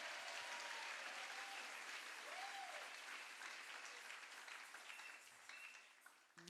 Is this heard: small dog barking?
no